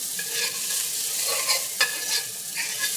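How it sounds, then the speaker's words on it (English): Butter melting in a pan for a roux gives a soft, steady sizzle up close, with gentle stirring and a single sharper tap partway through. "Just lightly melt your butter down."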